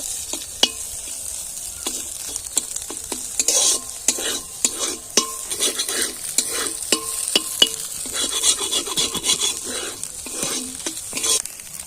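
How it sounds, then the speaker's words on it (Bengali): An egg frying in a pan while a spatula scrambles it: a sizzle runs beneath repeated sharp scrapes and clinks of the spatula against the metal, coming at an uneven rhythm and close by. "খুন্তি দিয়ে ডিমটা ঝুড়ো করে দেব।"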